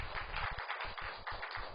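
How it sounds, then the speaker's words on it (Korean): A church congregation gives clapping applause during a Sunday worship service, heard as a steady, moderately faint patter with rhythmic low thumps running throughout. "한번 큰 박수로 격려하겠습니다"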